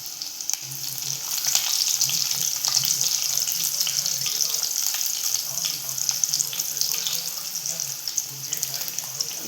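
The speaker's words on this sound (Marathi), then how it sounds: "इथे आपण लसूण थोडंसं परतवून घेऊया आधी" Garlic sautéing in hot oil with mustard seeds and cumin crackles and sizzles steadily up close, with dense spattering throughout.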